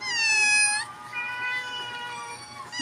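A pet cat meows twice up close, a long drawn-out high cry followed by a slightly softer, wavering meow, clear and alone.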